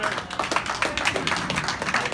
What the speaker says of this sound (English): listen to this round of applause he gets